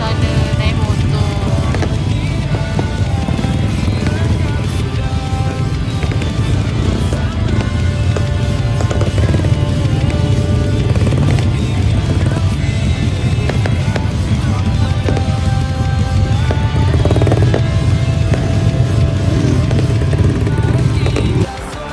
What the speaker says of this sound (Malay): Ini suasana naik motor.